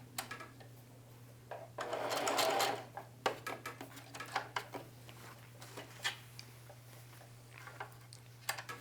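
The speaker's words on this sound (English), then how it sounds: "keep the needle down, lift the foot and pivot, move it in a 3/16, quarter of an inch" Domestic sewing machine stitching a denim jeans pocket, a dense buzzing run of stitches around two seconds in, then short bursts and single needle taps with pauses, over a steady low hum.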